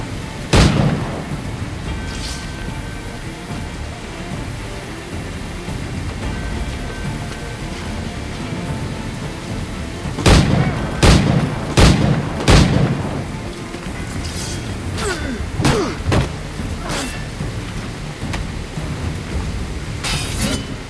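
Ship cannons fire in Assassin's Creed IV Black Flag, with heavy booms scattered over a steady roar of wind and sea, including one early blast and a rapid volley of several shots in the second half.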